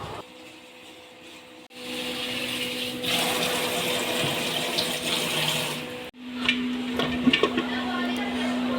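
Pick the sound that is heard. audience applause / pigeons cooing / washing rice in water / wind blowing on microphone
washing rice in water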